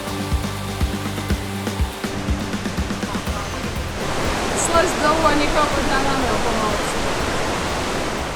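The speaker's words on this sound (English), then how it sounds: "now we are going to see that mighty waterfall" A mighty waterfall in a Cambodian forest: after a few seconds of other sound, a steady, loud rushing roar of falling water takes over and fills the rest of the clip.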